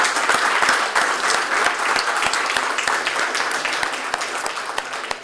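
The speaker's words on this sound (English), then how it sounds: "Let's give another big round of applause to John." Steady applause from a school board meeting audience, dense clapping from a room full of people sustained evenly for several seconds, with no talk over it.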